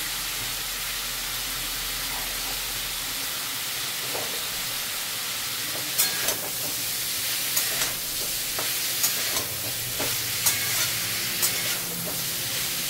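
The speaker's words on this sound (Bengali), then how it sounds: "পালং শাক, এটার মধ্যে আমরা অল্প জিরে দিচ্ছি।" Cumin and spinach frying in a pan for soup, a continuous hissing sizzle with periodic scraping strokes of a spatula, close and fairly loud.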